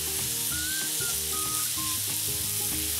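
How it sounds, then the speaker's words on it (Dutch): Shawarma meat sizzling loudly in a hot pan while being stirred, a steady close frying crackle with faint scraping and background music. "Even roeren door de shawarma."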